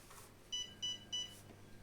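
A Wanhao Duplicator i3 3D printer gives three short, evenly spaced high-pitched beeps, fairly faint over quiet room hiss.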